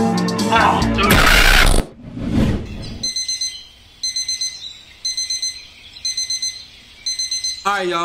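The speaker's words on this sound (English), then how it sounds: "so we got our alarm clock going off" An alarm clock goes off in the video game Routine, a loud electronic beeping in rapid bursts of four to five pulses repeating at a steady rhythm, preceded by a brief burst of other loud sound and noise.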